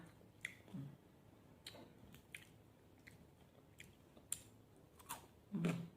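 Crispy dried squid being bitten and chewed up close, with soft irregular crunches spread across a few seconds and a louder crunch near the end, no talking.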